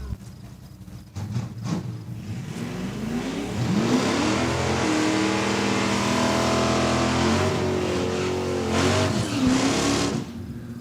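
Drag race cars launching from the start line at a radial-tire event at Saskatchewan International Raceway, engines revving loud and rising into a sustained roar for several seconds before easing off.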